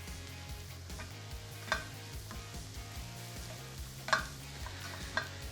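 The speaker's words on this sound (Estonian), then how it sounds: "Ja nüüd laseme neil siin ilusti praadida." Mushrooms frying in a pan while being prepared for beef Wellington, with a steady soft sizzle under repeated stirring scrapes and a few sharper utensil clinks, close by with no talking.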